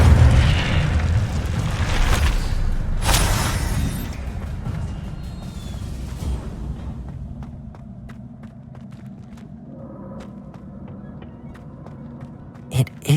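Incendio fire spell cast in Hogwarts Legacy, a loud roaring blast of flame with booming eruptions that fades into quieter crackling and light footsteps.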